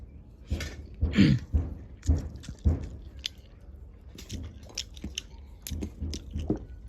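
Small ichha fish (small shrimp) cooked in chili paste being eaten in a village kitchen, with close, wet chewing and crunchy bites in uneven bursts, loud at first and then softer.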